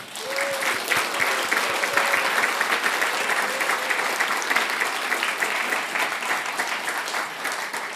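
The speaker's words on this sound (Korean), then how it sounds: "힘찬 박수 한번 드리겠습니다" Sustained, vigorous applause from a church congregation during a Sunday worship service, dense and even clapping filling the room for several seconds with a faint voice briefly underneath.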